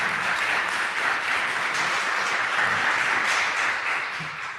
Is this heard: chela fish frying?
no